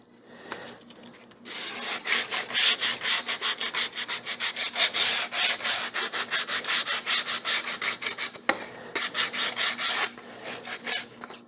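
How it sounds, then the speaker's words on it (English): Close, steady back-and-forth rasping of hand sanding on a cherry wood cremation urn, with rhythmic strokes running for about nine seconds and a brief pause partway through. "Probably the cherry wood doesn't take as much sanding because it's not as hard."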